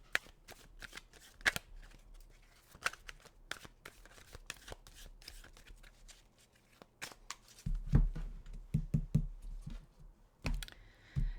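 Tarot cards being shuffled by hand in quiet surroundings, with a run of crisp riffling snaps and soft slides that grow heavier and more clustered toward the end, alone with no talking.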